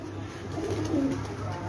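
Pigeons coo in low, soft rolling calls at a rooftop home loft, close and continuous over faint background noise.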